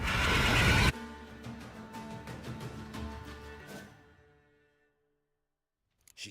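A mare in The Witcher 3 lets out a loud, blaring neigh. A long, wavering whinny follows and fades away into near silence.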